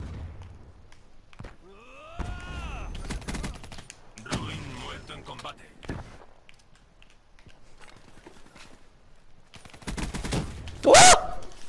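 Gunfire from a weapon in the first-person shooter Black Ops 3 comes in loud, separate bursts of rapid shots, broken by quieter gaps of game noise.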